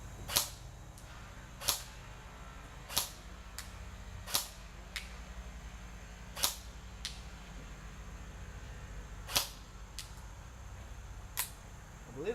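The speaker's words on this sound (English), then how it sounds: "So we got 10 actually to shoot. So 4 more shots." An Echo1 AK700 airsoft rifle fires single shots, eight or so sharp cracks spaced about a second apart against a low steady hum, with a faint mechanical click after several of them.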